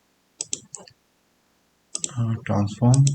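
A few sharp computer keyboard clicks come in quick succession while a shortcut is entered in DaVinci Resolve editing software, followed by a louder burst of activity, all close and dry against silence.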